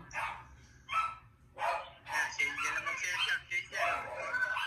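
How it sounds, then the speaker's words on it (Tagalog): A dog barks repeatedly and loudly nearby in quick bursts, the barks growing more frequent and overlapping toward the end. "Ingay naman ng aso."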